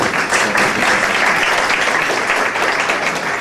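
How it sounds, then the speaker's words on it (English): Loud, dense applause from a crowd at an Afghan community education fundraiser, continuous and even for the whole stretch with no talk over it. "So I think a round of applause."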